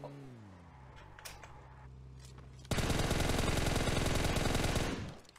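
Sustained automatic gunfire from shooting an enemy in PUBG Mobile on the Erangel map, a loud rapid burst of shots that starts abruptly and rattles on for about two and a half seconds before cutting off.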